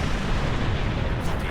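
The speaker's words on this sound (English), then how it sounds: "Fire torpedoes!" Torpedoes fired from a starship in the space combat game Star Trek Online, a loud, dense sustained rumble of weapon fire and blasts filling the whole moment without any speech.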